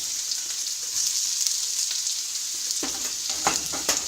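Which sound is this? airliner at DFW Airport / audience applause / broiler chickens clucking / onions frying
onions frying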